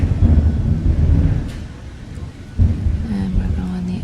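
A nighttime thunderstorm in Tampa brings loud rolling rumbles of thunder over steady rain, with a dip in the middle before a fresh surge of rumbling.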